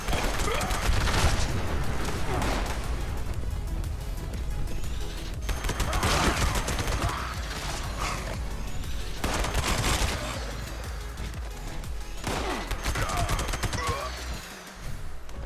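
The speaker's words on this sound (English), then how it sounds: "Definitely takes, I think, around 15 shots to take down a level 100 super mutant." Sustained heavy gunfire in Fallout 76 aimed at a level 100 super mutant, dense rapid shots rolling almost continuously with louder clusters and brief lulls, loud and close throughout.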